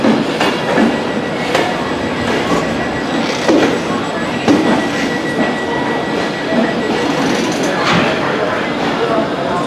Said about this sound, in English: So we've got the empty stock working through Birmingham Moore Street Station.